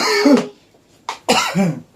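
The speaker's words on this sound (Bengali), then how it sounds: "কাশি হচ্ছে নাকি হাজব্যান্ডের" A man coughs sharply at a dusty fair, one hoarse cough followed by a quick pair of coughs after a pause, close and fairly loud.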